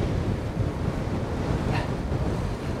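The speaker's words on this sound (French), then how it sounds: "Il y a pas mal de vent, ça me cloue." Strong wind buffets a cyclist's microphone while riding, a continuous loud low roar of gusting noise filling the whole stretch without any voices.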